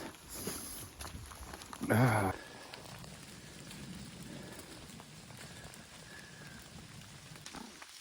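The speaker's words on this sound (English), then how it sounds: "It's like a whole day of rain." Steady rain patters on a surface throughout on the Appalachian Trail, with a brief louder burst of handling noise near the start and faint movement underneath.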